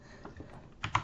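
Keys on a faulty computer keyboard click quietly, a few soft taps followed by two sharper, louder strokes near the end.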